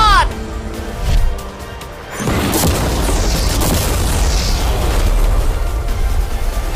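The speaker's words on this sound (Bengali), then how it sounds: "বিস্ফোরণটা এত জোরে হয়েছে যে ভিতরের ম্যানিকুইন গুলো ছিটকে এদিক ওদিকে বেরিয়ে গেছে" An ordinary car with mannequins inside is blown up. After a quieter lead-in, a loud, deep boom bursts out and rolls into a sustained roaring rumble with debris noise.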